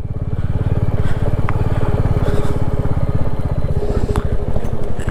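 A motorcycle runs on a mountain road in North Sikkim between Lachung and Katao, its engine chugging loud and close with a fast, steady pulsing throb and wind rush, and no one speaking.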